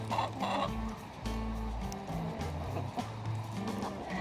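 Several hens cluck and murmur softly nearby in uneven bursts inside a greenhouse, with low background noise.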